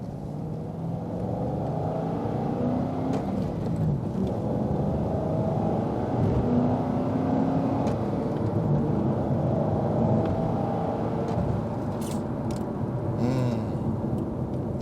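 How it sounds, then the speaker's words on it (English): A 2010 Chevrolet Corvette 3LT with a manual gearbox and LS3 V8 accelerates on the road, its engine giving a loud, continuous deep rumble that climbs and shifts in pitch as the revs rise, heard from inside the car without talk. "see if we can wake up this V8, this LS3 just a little bit"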